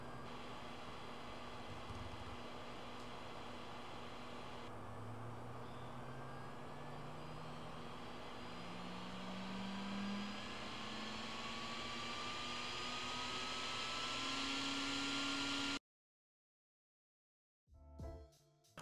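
A PC cooling fan spins at 7,800 RPM on a Gigabyte X870I Aorus PRO ICE mini ITX build, giving a steady, fairly loud broadband whoosh with a faint rising tonal whine, then cutting off abruptly near the end.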